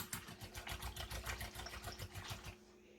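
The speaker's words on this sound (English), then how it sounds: "I'm going to go ahead and whisk it a little" A homemade hand sanitizer mixture is whisked by hand, giving quick, even, rhythmic strokes for about two and a half seconds before it stops.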